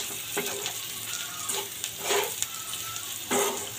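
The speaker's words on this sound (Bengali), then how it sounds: "এখন হলুদ, মরিচ এবং অন্যান্য মশলা ছেড়ে দিলাম লবণ সহ। এখন এটাকে নেড়ে নিব।" Dried fish frying with turmeric, chili and salt, stirred in a pan, a continuous close sizzle broken by several scraping stirs, no talking.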